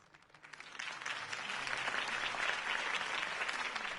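Crowd applause in the video game Batman: The Telltale Series swells from a quiet start into sustained, dense clapping that holds steady to the end.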